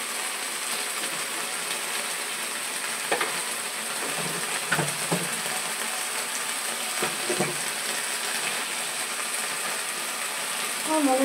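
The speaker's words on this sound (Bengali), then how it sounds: "আমি মশলাটা কেমন কষিয়ে নিচ্ছি। ভালো করে আগে এভাবে মশলাটাকে কষিয়ে নিতে হবে।" Masala paste sautéing in a pan, giving a steady close sizzle with occasional scraping and stirring knocks from a spoon, alone without talk.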